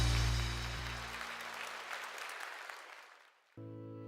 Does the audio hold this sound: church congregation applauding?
yes